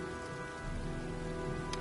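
Rain from the video game Heavy Rain falls steadily as a storm rolls in, with a dense patter of drops over a constant hum and one brief sharp tick near the end.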